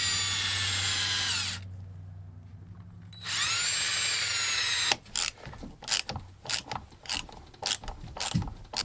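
A power drill drives screws into door hardware on an old house door. Two long, steady high-pitched whirring runs come first, then a stretch of rapid, choppy bursts as the screws are seated, close up and with no talking.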